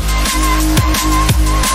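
A Serum synth recreation of a track's bassline: a thick, gritty bass with a deep sub pulses in a steady rhythm under a thin high tone, loud and upfront.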